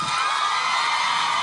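A studio audience cheers and whoops, a dense, continuous crowd roar with no talk over it for a moment.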